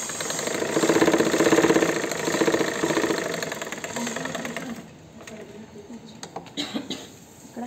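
A sewing machine stitches a blouse, its needle chattering in a fast, steady mechanical rhythm for about five seconds before stopping, followed by a few scattered clicks and handling knocks.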